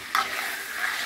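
Radish chicken curry frying in a pan, stirred with a couple of scrapes over a steady close sizzle, with no voices.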